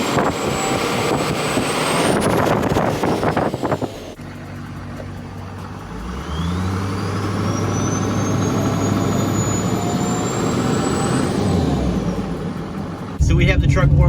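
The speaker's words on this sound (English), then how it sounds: "let's go ahead and rev it up from the exhaust side and see what it sounds like" A Duramax diesel pickup fitted with a loud RDS turbo revs up, engine roar climbing with a rising turbo whistle and spool that holds and then drops away, heard steadily and fairly close from the exhaust side.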